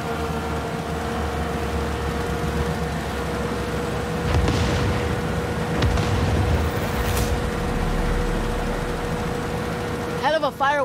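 A fireworks show in the video game Far Cry 6, with low rolling booms and crackling bursts that cluster midway over a constant rumbling game background.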